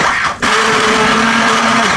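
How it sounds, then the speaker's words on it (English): Immersion blender pureeing a thick roux-based soup, a steady motor whine running almost continuously after a brief gap near the start, close and loud with no talking. "So I have my immersion blender again, one of my favorite tools."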